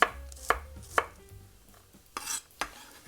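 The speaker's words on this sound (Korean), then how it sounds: "마늘 7개 대충 편 썰어주겠습니다" A knife slices garlic cloves on a cutting board in several sharp, separate chops, roughly evenly spaced, close up and without talk.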